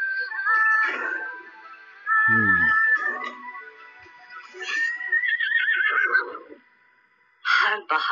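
Horse whinnies in a film teaser, including one long, shrill neigh, with dramatic music and other sound effects in between.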